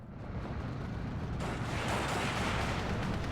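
A P-47 fighter-bomber drops bombs in the video game Steel Division 2, giving a dense roaring blast of explosions that swells and holds loud throughout.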